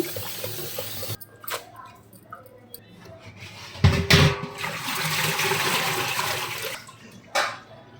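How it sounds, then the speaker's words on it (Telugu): Gongura leaves washed under running water in a kitchen sink, a steady splashing rush that swells in the middle, with bursts of clatter and faint background voices. "3 టైమ్స్ అట్లా కడుక్కోవాలండి. మంచి నీట్గా క్లీన్ అవుతుంది."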